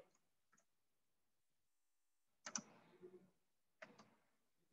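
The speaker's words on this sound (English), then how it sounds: "you have to start the typing from the keyboard" Key presses on a computer keyboard, heard as a few quiet, scattered clicks and short bursts of typing with long silent gaps between them in a quiet room.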